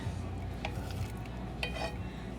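Sambar ingredients are stirred in a pot, giving a couple of light spoon scrapes and clinks against the metal over a low simmering background, close by and without speech.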